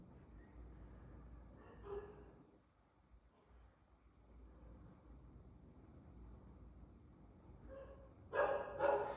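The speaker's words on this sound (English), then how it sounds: "I'm sorry about the dogs, by the way." Dogs bark in the background in a quiet room, with a short faint burst early on and a louder cluster of barks near the end.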